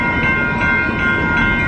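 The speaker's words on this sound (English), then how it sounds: "There's a train coming." A train passes near the San Diego Convention Center with its horn sounding as a loud, steady tonal blare over dense rumbling rail noise, close by and continuous throughout.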